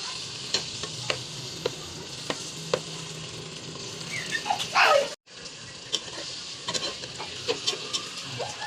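Pork browning in a pan for Kapampangan dinuguan, with a steady sizzle of frying under repeated scrape-and-stir clicks from a utensil; a brief louder stir near the middle is followed by a short pause.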